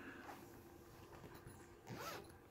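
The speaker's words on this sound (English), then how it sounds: "All I gotta do is take the zipper." A zipper on a fabric cover for a 59-inch, 12-tier closet unit is pulled in two quick, close zips, the second louder and longer, against a quiet room.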